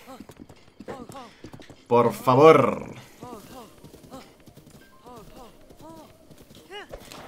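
Rhythmic hoof clip-clop of a horse in the video game Zelda Breath of the Wild, steady and moderately close, running beneath Spanish speech with a brief louder burst of activity partway through.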